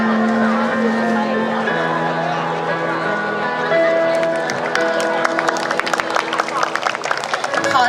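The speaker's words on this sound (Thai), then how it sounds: "เสียงปรบมือให้กับการแสดง" Audience applause and crowd noise fill a hall after a student medical performance at a hospital Loy Krathong celebration, with sustained clapping, music tones underneath and sharper individual claps building toward the end.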